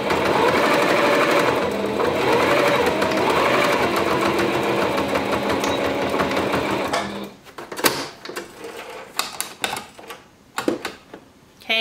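A sewing machine runs loud and close in a long steady whirring burst while stitching a tag onto a baby burp cloth, then breaks into short stop-start bursts of needle clatter.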